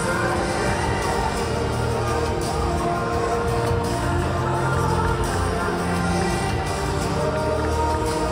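Spectators at a school under-18 rugby union Vase semi-final applaud their travelling team, a steady broadband wash of clapping and crowd noise lasting throughout without a break.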